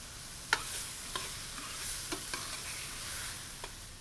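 Onions sizzling in a pan for jambalaya, a soft steady frying hiss punctuated by several light clicks and scrapes of a spoon stirring, with no voices.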